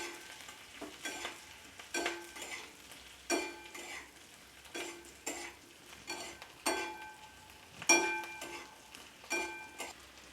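Vegetables with chopped green chillies stir-fry for chili chicken, a soft sizzle running under repeated scraping strokes of a spatula against the pan, roughly every second or so, close and alone.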